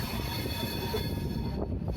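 Passenger coach of the Vivek Express in motion, a steady loud rumble of wheels on rails with faint metallic squeal throughout, heard from inside the train with no voices.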